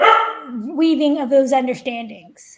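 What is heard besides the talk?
dog barking in the background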